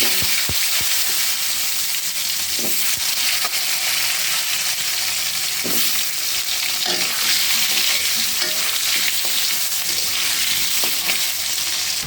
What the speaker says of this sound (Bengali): এবার আলুগুলো ভাজি করে নেব এবার জিরা ফোড়ন দেব